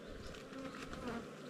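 Honeybees hum steadily around an open hive during an inspection, a close, continuous buzz with a few individual bees droning past.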